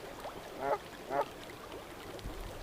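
Geese on a small creek edged by knee-deep snow give two short honking calls at a moderate distance over a steady outdoor background, with no talking.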